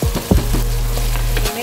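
Tomatoes hit a hot frying pan while pinakbet mixed vegetables cook, giving a steady close sizzle with a few stirring scrapes before the frying noise cuts off near the end.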